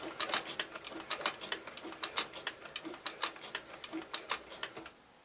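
A sewing machine stitches through thick leather, producing a quick run of light, sharp ticking stitches in an uneven rhythm, faint and close, stopping abruptly near the end.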